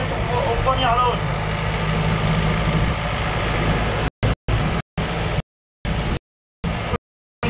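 A tractor engine runs a hay tedder at a grassland field demonstration, a steady low drone under a voice, then chopped into gaps toward the end.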